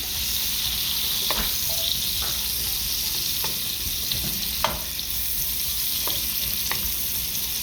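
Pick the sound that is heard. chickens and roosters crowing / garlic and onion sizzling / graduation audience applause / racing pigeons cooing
garlic and onion sizzling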